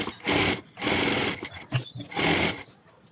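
A sewing machine stitches the lining of an aari-work blouse in short bursts, three loud runs of rapid whirring separated by brief pauses and small clicks, with soft speech barely present.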